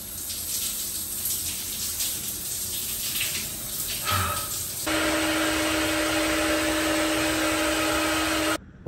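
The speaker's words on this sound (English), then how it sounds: "there's nothing quite as life-changing as a shower after a long-haul flight" Shower water running in an airport's Polaris Lounge after a long-haul flight, first a low rushing wash, then a louder steady stream with a faint humming tone underneath that cuts off abruptly near the end.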